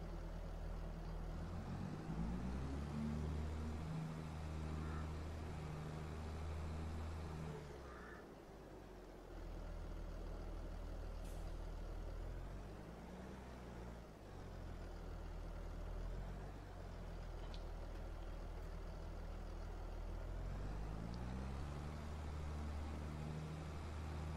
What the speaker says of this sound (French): On va prendre le tracteur.